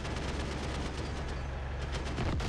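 Gunfire from a ground vehicle in the combat simulator game DCS, a dense sustained crackle of rapid shots forming a continuous loud roar with no talking over it.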